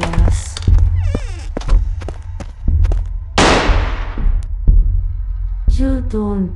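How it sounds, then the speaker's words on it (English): Gunshots in the Backrooms Buff Doge Horror game: a string of sharp, loud pops and thuds, one with a long hissing tail, mixed with clattering and short bursts of voices. "Can you stop shooting me?"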